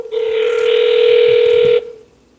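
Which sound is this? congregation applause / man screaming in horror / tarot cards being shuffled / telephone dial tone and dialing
telephone dial tone and dialing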